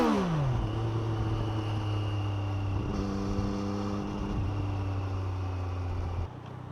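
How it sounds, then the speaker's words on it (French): A 2023 Triumph Street Triple RS motorcycle with its stock exhaust revs and runs close by, its steady engine note climbing and shifting pitch through gear changes, loud and continuous with no talking. "même avec l'échappement d'origine, je trouve que ça chante plutôt bien."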